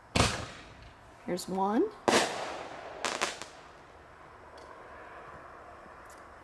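Super bomb special effects artillery shells from consumer fireworks burst outdoors in a few sharp, loud booms and cracks, with a whistling rise between, then fade into quiet ambience as a person speaks briefly.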